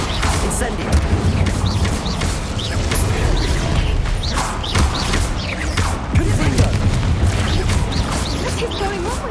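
Incendio fire spell cast in Hogwarts Legacy during a busy fight, heard as bursts and whooshes over dense combat noise, mechanical clatter and thuds throughout, with a voice speaking.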